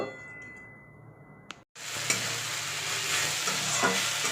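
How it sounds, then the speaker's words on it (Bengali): Potatoes and pointed gourd fry in a pan: a knock and a brief hush, then a loud, steady hiss of sizzling oil that carries on unbroken, with faint stirring ticks. "আগে আলু পটলগুলো ভেজে নেব"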